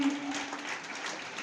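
Children clap at the opening ceremony of a district-level shooting ball tournament at a school in Chhoti Khatu, a steady dense patter of many hands carrying on throughout, with a faint tone humming at the start.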